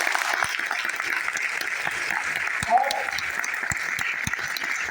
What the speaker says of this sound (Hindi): इनका सबका स्वागत करेंगे जरा ताली से जोरदार.